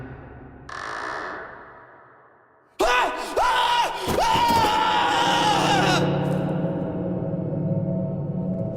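A woman screams from a kitchen, a sharp wailing cry that rises loud and wavers for a few seconds after a quieter, muffled stretch, then gives way to a dense rumbling bed of noise.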